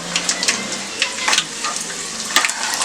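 Steady crackling sizzle of spices and crushed garlic tempering in hot oil, close up, with scattered louder pops and spits throughout.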